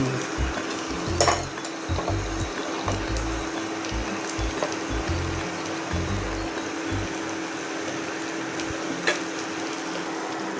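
Onion and ginger-garlic-green chilli paste sizzle steadily in a pan with a constant hiss, broken now and then by soft scraping and stirring sounds.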